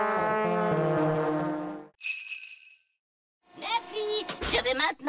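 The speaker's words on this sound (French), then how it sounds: "Les elfes aiment souffler dans leurs cornes." Cartoon elves blow their horns in a loud, blaring, foghorn-like blast for about two seconds, followed by a bright tinkling chime, then a pause and lively speech-like voices.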